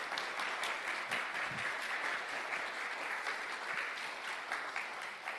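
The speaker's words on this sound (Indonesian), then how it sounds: "Mari kita berikan tepuk tangan yang meriah." A church wedding congregation at GRII Pusat applauds the newly married couple with a steady, even wash of many hands clapping, heard at some distance and fairly soft, sustained for several seconds without talk.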